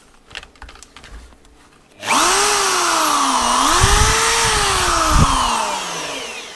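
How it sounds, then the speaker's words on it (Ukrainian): An electric drill powered by an ANENJI 4 kW hybrid solar inverter is switched on. It whines loudly and steadily after a quiet start, with its pitch rising and dipping slightly as the motor speed shifts. "Підключаємо дрельку і включаємо"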